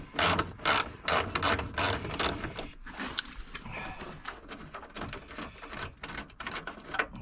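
A ratchet with a 12mm socket clicks in rapid bursts while loosening a bolt on a 2012 Hyundai Elantra, close and crisp, with pauses between strokes.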